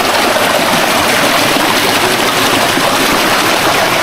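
Strong water rushes and roars in a loud, dense, unbroken flow close by, with no voices.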